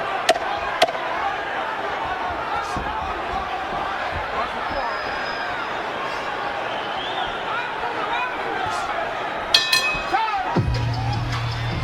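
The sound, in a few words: boxing arena crowd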